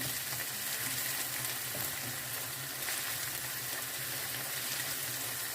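Finely chopped onion fries in a pan with a steady, even sizzle. The hiss stays soft and continuous from start to finish, with no voices.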